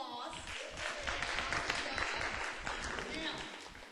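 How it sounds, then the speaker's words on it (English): Audience applause fills the room, a dense, continuous patter of many hands clapping at moderate volume for several seconds, with voices mingling underneath. "Give him applause."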